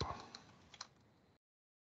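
Typing on a computer keyboard, a few quiet, distinct key clicks in a short burst, followed by silence.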